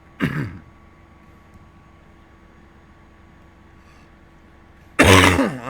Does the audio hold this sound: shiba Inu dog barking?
no